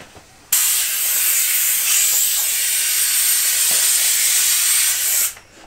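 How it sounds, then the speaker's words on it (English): Air compressor blowing air into a fat bike tire, a loud, steady rushing hiss close by that starts abruptly and runs for about five seconds before cutting off. "I'm not holding my breath that this will inflate even with a compressor"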